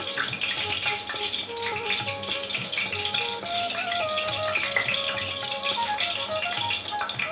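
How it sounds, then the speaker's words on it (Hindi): Bay leaf and cumin seeds hit hot oil in a pan with a bright, crackling sizzle that keeps going at close range, while faint musical tones play beneath. "तेल हमारा गर्म हो गया है, अब इसमें हम डाल रहे हैं तेज पत्ता, और इसमें हम डाल रहे हैं जीरा"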